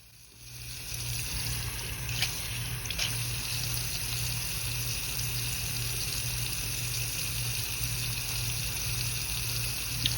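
Hot water runs steadily from a tap into a sink drain treated with Drano Max Gel for a hair clog, a loud continuous gushing wash that starts within the first second and holds without a break.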